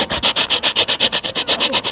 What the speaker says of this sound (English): I just got a little piece of sandpaper here.